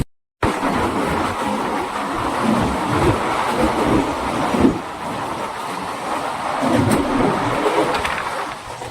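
A passenger train rolls along toward Iron Halt, a steady close rumble of wheels and carriage noise, with faint clatter and swells in loudness and no voices.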